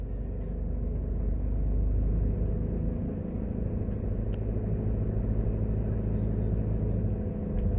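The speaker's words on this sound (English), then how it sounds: "this will give you an idea of what the traffic is like in Falmouth" Steady afternoon street traffic rumbles past in Falmouth, Jamaica, a continuous low car and engine drone with no clear breaks, fairly loud and close.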